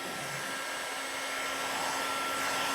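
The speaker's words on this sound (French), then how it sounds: "Donc je vais allumer mon pistolet thermique." A heat gun blows a steady, loud, even whoosh of hot air over chocolate, holding constant for a few seconds with no voices.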